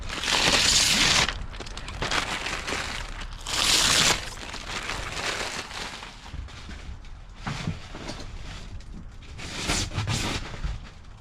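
Protective film peeled off a tinted full windshield on a Can-Am X3: loud crackling, ripping bursts as the film pulls away, with quieter rustling in between, close and without talk.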